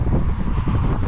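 Steady wind buffeting a 1970 Honda SS 50cc motorcycle at a scenic viewpoint along Ruta 40 in Patagonia, a continuous loud low rumble of gusting air across the microphone with no speech.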